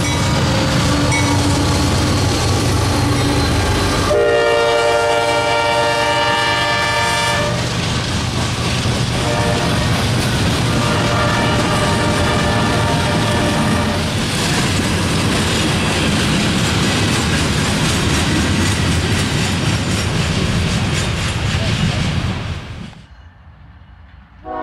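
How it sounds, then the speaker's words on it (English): A CSX coke train led by a YN2-painted Dash 8 locomotive passes close and loud, with a horn blast early on over steady rumbling wheels and clattering cars, until it fades to quiet near the end. "Here comes a YN2 leader on this coke train."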